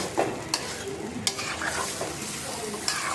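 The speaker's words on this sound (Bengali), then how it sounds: "শিং মাছটা বুনা করতেছি" Stinging catfish frying with chili and garlic in a pan, a steady loud sizzle with a spoon stirring and scraping now and then, close up, with no talking.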